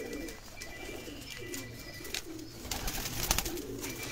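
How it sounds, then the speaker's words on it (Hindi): Breeder pigeons coo softly at moderate distance in a Lahore fancier's loft, low murmuring calls repeating over a steady background with occasional faint chirps. "कबूतर"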